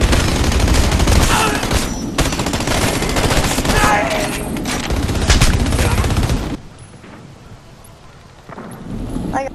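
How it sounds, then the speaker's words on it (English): Heavy, loud gunfire from a hard-recoiling gun during a video game mission, a sustained barrage of overlapping shots and blasts for about six seconds, then a quieter lull before firing picks up again. "in this mission, the gun that you use recoils like hell"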